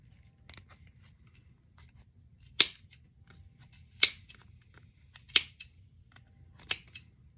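Scissors snip through yarn around a pom pom, four crisp, close cuts spaced about a second apart over a faint low hum, with no talking.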